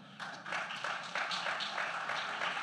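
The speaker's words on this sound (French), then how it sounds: "On peut les applaudir." An audience applauds speakers at a digital health event on inclusion and e-health, a dense, sustained wash of many hands clapping that swells after the first half second and continues steadily to the end.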